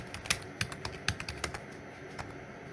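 Irregular keystrokes on a computer keyboard as a telnet command is entered during a router remote-access exercise, about a dozen close, crisp clicks in uneven bursts over a quiet room background.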